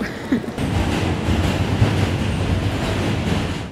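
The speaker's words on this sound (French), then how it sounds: "C'est parti pour 1 heure de métro." Steady, loud rumble and rattle of a New York subway train in motion heard from inside the car, with continuous wheel and track noise filling the whole stretch and no talk.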